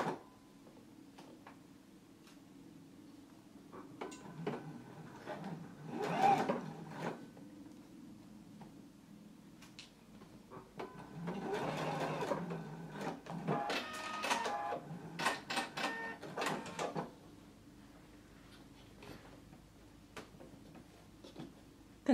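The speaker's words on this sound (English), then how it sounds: "Now we can go to our sewing machine and baste across the top of our carriers." Sewing machine basting belt carriers onto a pair of pants, running in several short bursts of rapid stitching with quiet handling gaps between them.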